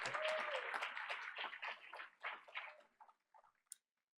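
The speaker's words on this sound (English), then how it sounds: "Let's hear it one more time for the Cowboy Cheer Squad as they make their exit." Applause for a departing cheer squad at a Board of Education meeting trails off, from scattered clapping to a few last faint claps before silence.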